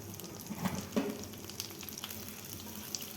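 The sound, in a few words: cinnamon, cloves and bay leaves frying in melted butter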